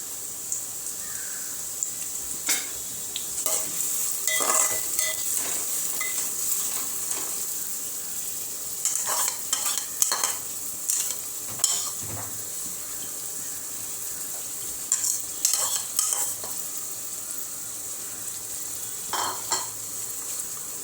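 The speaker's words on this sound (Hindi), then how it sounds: "प्याज को हमें गोल्डन फ्राई करनी है" Onions fry on a full flame for keema, crackling with a steady bright sizzle while a spoon stirs and scrapes the pan in irregular bursts, close up, with a crow faintly cawing somewhere outside.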